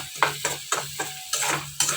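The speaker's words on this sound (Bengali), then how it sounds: "তোমার গোবিন্দভোগ চাল একটু ভাজা করে নিচ্ছি, একটু ঘি দিয়েছি আর তেল দিয়েছি" Gobindobhog rice frying in ghee and oil in a pan, with a soft sizzle beneath rhythmic scraping stirring strokes, close and fairly quiet.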